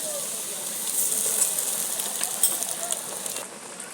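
Ginger garlic paste hits browned fried onions in a hot pan for chicken biryani, giving a steady, bright sizzle and hiss that holds throughout, close and moderately loud.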